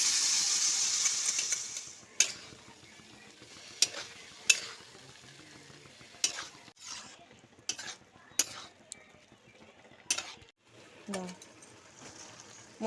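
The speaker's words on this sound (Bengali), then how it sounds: "এই যে সিদ্ধ করে রেখেছিলাম ছোলার ডালটা দিয়ে দেবো এবার।" Boiled chana dal goes into a pan of fried spice masala, a loud sizzle at first that quickly settles into quiet frying under sharp clinks and scrapes of a spoon stirring against the pan.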